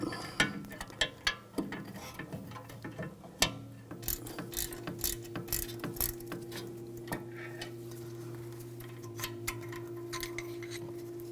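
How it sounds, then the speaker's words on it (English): A ratchet fitted with an M12 triple square socket loosens hub bolts on a 2007-2013 BMW X5 front wheel assembly, giving rapid bursts of clicking pawl ticks close up, then a steadier mechanical hum with scattered clicks, no speech. "This is a M12 triple square socket. And we're going to take these bolts out."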